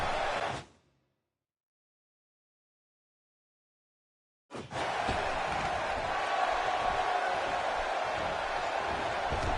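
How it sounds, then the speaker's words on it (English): A wrestling arena crowd in the video game WWE 2K17 roars briefly, drops to silence for several seconds, then surges back as a loud, sustained cheer. "And you hear this crowd? They wanted him. They got him."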